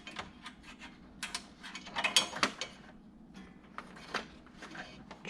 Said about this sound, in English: So I got my 10mm wrench and I'm going to take this bolt off.